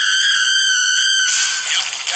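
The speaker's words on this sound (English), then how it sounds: "Denny's Screaming Chickens." A sustained, piercing, high-pitched scream holds steady before breaking into a ragged, strained cry. It is voiced by a chicken in a Denny's TV commercial.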